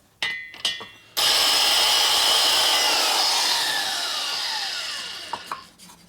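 Valve seat cutter grinding the seat of a 1977 Harley-Davidson XLCR 1000cc ironhead Sportster cylinder head, a steady loud whirring grind running about five seconds, easing off near the end, with a few brief clicks before and after.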